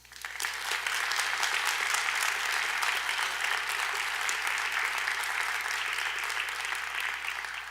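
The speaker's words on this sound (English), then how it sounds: "salute them by a round of applause" A crowd claps steadily in a dense, sustained round of applause that rises quickly and holds for several seconds, at Flint's State of the City address.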